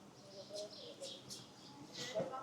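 Birds at Pairi Daiza zoo's Oasis village give a few short chirps and calls at moderate distance, scattered over a low background murmur.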